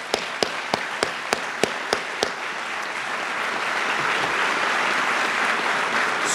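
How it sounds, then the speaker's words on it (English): Applause from the audience at a Brockton Fire Department training graduation: a few sharp, evenly spaced claps up close, then a broad sustained wash of clapping from the crowd that keeps going to the end. "Let's give them a round of applause."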